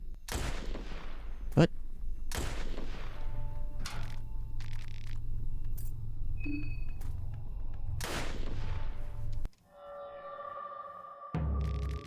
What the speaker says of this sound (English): Hey, somebody's shooting me.